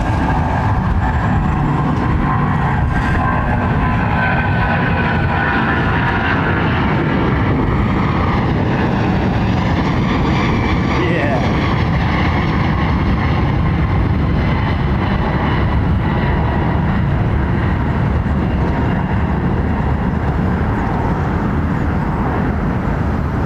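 Aircraft at London Heathrow Airport, a loud, sustained jet engine roar lasting over twenty seconds with a slowly shifting pitch as the plane passes, no voices.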